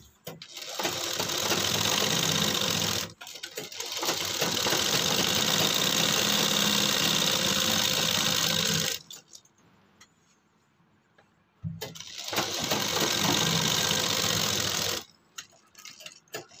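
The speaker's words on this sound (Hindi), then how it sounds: "अब हम यहाँ पर फिर सिलाई लगा लेंगे।" A sewing machine stitching a shirt collar runs in long steady whirring bursts, stopping briefly then resuming, loud and close with a rapid mechanical rhythm and a quiet pause between runs.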